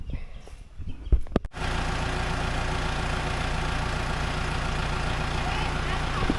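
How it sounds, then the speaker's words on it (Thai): A tractor levels the ground at an elephant shelter, a few knocks giving way to a steady, loud low engine drone that runs on continuously, with some talk nearby. "กำลังให้รถไถมาปรับหน้าดิน อยู่ด้านโน้นเนาะ"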